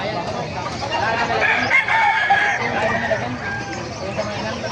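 Roosters crow over a busy, noisy background at a market in Bocaue, with people talking and chickens clucking nearby.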